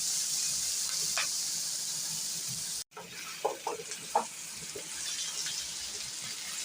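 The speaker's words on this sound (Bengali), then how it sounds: "কয়েকটা চেরা কাঁচা লঙ্কা দিলাম। এটাও একটু ভেজে নেব।" Slit green chillies frying in a pan for crispy chilli baby corn: steady hiss of hot oil throughout, then a brief cut and a few soft pops and crackles, close and gentle, with no voices.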